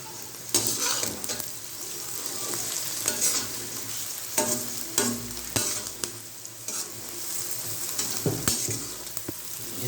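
Spiced onions fry in a hot pan with turmeric added, spoon scraping and stirring in repeated strokes over a steady close sizzle, with no one talking.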